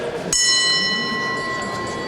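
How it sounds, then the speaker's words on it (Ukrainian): A single metallic gong strike starts a boxing bout, then a long shimmering tone with steady overtones decays slowly under a noisy crowd-like background. "Удар в гонг і бій розпочато."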